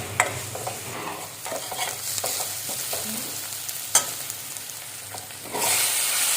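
Ginger-garlic paste fries in a pan, a steady close sizzle broken by scraping and knocking of a stirring spoon, then the hiss swells louder near the end; no talk.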